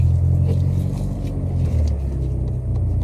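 Cars idling and creeping through a crowded parking lot during the lunch rush, a steady low engine rumble close by with faint intermittent mechanical sounds above it.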